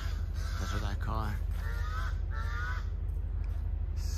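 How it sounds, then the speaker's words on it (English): Crows and other forest birds call in an early-morning forest, a run of harsh honking caws and chirps over steady background hiss, with some voice-like calls in the mix. "could hear the crow and all the other kind of birds"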